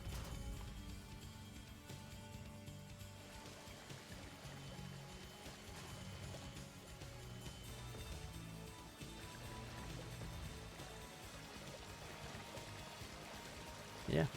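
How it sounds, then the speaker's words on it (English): A loud water feature runs steadily through a Ukrainian Cup match broadcast, a constant rushing, trickling wash that sits under faint background music. "This water feature is so loud."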